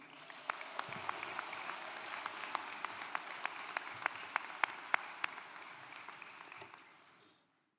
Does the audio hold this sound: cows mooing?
no